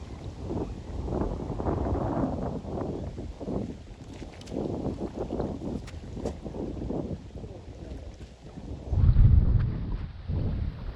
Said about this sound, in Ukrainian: Ох і вітер дує.